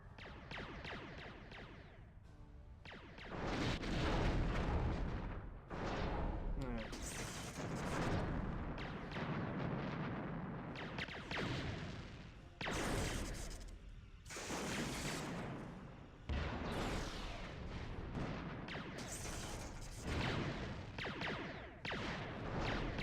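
Starship weapons blasting in Bridge Commander during a battle with Romulans, repeated loud bursts of phaser and torpedo fire with booming impacts, separated by brief quieter gaps, continuing throughout without talk.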